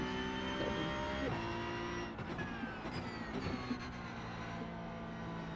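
A Cup car engine in a racing simulator game drones steadily with a sustained tonal whine, shifting pitch with gear changes and short revving surges midway, close and continuous throughout.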